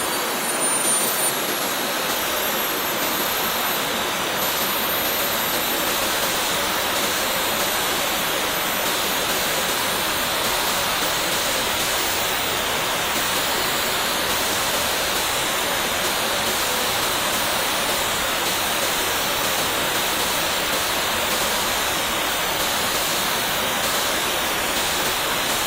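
Mini jet engine throttled up and running at full power, a loud steady roaring hiss with a thin high whine that holds without letting up.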